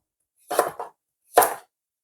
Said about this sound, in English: But this one, I'm gonna slice it.